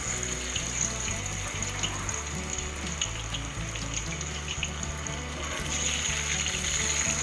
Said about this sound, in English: let's heat oil in a pan and start adding the mushrooms one by one